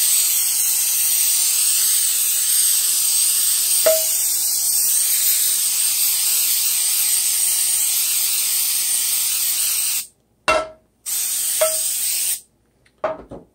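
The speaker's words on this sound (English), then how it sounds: "Definitely one of my favorite things from the Dollar Tree for frittatas, coconut oil spray." Coconut oil cooking spray hissing from a can onto a pan for a frittata, a long steady close hiss that breaks off into a few short bursts near the end, with no talk.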